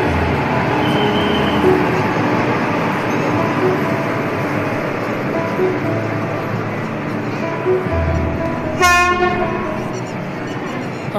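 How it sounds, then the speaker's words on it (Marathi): The Tapovan Marathwada Express arriving at Chhatrapati Sambhajinagar railway station, a loud continuous rumble of rolling wagons with a short horn blast near the end. "तपोवन एक्सप्रेस आलेली आहे."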